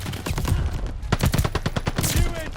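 Rapid hip-fire gunshots in Call of Duty: Vanguard multiplayer, a dense string of sharp cracks firing in quick bursts across the whole stretch, loud and close, with chaotic game noise filling the background.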